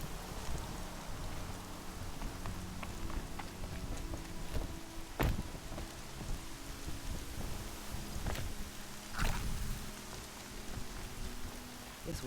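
Heavy rain pours down in Horizon Zero Dawn, a continuous loud hiss of drops on surfaces, broken by a few sharp cracks and thuds standing out from the downpour.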